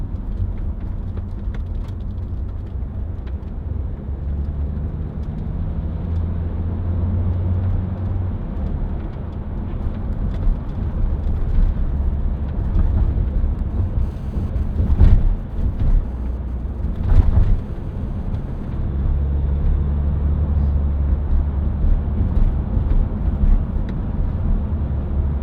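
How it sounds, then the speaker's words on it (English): A 2009 BMW X6 30d xDrive with an automatic gearbox cruises on country roads, its steady interior road and engine rumble continuous and fairly loud, with a couple of brief bumps. "Certainly nice to drive this car on country roads."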